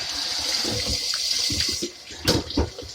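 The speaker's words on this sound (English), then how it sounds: "Start some water." Tap water running into a kitchen sink, a close hissing stream with a splashy burst near the end, no speech.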